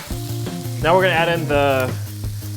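Bamboo shoots and baked tofu hit hot oil and sizzle loudly, a close crackling fry with a brief squeaky scrape as the mix is stirred.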